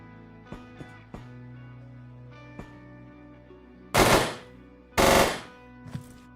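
Turret in a video game firing, scattered sharp single shots followed by two loud, dense bursts of rapid fire up close.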